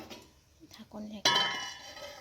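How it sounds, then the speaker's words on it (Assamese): A metal lid is set onto a cooking pan on the stove, striking with a bright, ringing clang after a few soft scrapes and taps, the metallic tone lingering and fading. "ঢাকনি ঢাকি"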